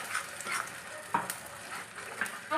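Fried spice paste with puti fish sautés and sizzles in a pan, a soft steady frying hiss broken by occasional scraping stirs of a spatula, close by.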